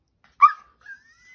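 A pregnant dog gives a single short, close bark, followed by a thin, rising, drawn-out whine.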